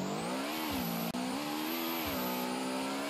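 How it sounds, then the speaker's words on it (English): Toyota rally car engine in a racing video game, holding a steady high-pitched rev with brief dips and rises in pitch, loud and continuous with no speech. "it's about time they added a Toyota rally car"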